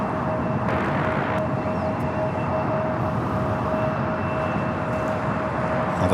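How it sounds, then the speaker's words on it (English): A Boeing 787 Dreamliner bound for Santiago takes off from the south side of LAX, its broad, steady engine roar holding loud and unbroken, with a faint tonal whine running through it. "Going to be taking off here in the south. This flight headed to Santiago. This is the Tom Dreamliner."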